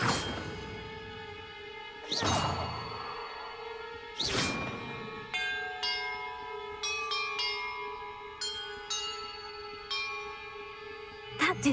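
Bells rung in a puzzle in Hogwarts Legacy: two loud, resonant strikes a couple of seconds apart, followed by a quicker run of lighter, ringing chimes that fade into one another.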